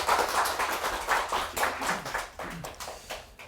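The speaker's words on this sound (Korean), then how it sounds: "뜨거운 박수 부탁드리겠습니다" Applause from an audience after a Buddhist dharma talk, a dense patter of many hands clapping steadily, fading slightly toward the end.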